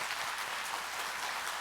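An audience in a church hall applauds after a priest's talk, with dense, steady clapping throughout, fairly distant and even in level.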